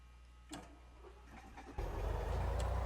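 A light aircraft's piston engine catches and starts after priming, with a few faint clicks and a prop turning over, then a sudden loud, steady engine roar at idle that fills the rest of the clip.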